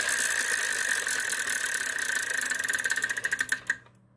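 A game show prize wheel spins with a dense stream of rapid clicks that gradually slow and spread out before stopping abruptly, loud and close with no talking.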